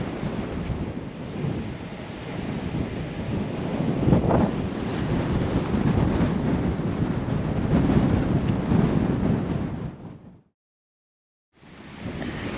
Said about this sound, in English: This wind is all blowing the water out of the bay